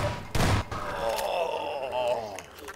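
Point-blank shotgun fire in the video game Half-Life 2, a single heavy, close blast followed by a groaning, wavering voice-like sound that fades out.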